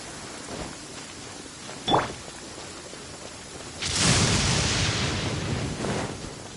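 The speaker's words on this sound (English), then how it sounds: "Rain." Rain in the video game Genshin Impact: a broad hiss of falling rain swells in and sustains for several seconds after a brief whoosh, steady and fairly loud with no talking.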